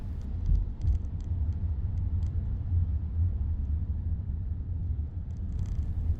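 An electric car rolling through busy town traffic at Christmas, a low steady road rumble with faint intermittent clicks and ticks from the cabin, no voices.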